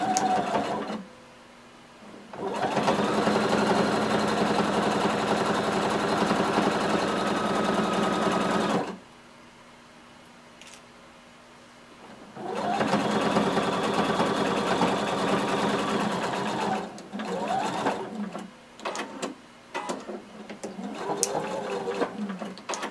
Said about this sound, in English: starting from the bottom, sew your way up using 5/8 of an inch seam allowance